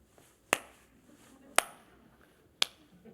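Three sharp, isolated hand claps in a slow, even rhythm, each about a second apart, close and crisp against a quiet room, demonstrating the clapping style of prayer-house deaconesses.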